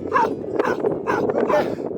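Several dogs bark and yip in quick overlapping bursts, close and loud, a busy continuous chorus of barking.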